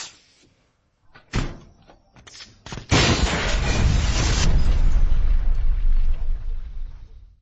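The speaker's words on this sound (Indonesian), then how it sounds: "memasukkan sebuah pisau ke microwave untuk memicu ledakan besar." A few scattered bangs and thuds, then a loud, booming explosion set off by a knife in a microwave erupts and rumbles on for several seconds before slowly fading.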